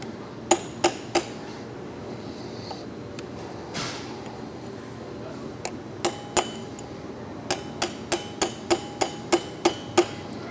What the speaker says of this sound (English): relieve these lock tab washers, usually using a chisel and a small hammer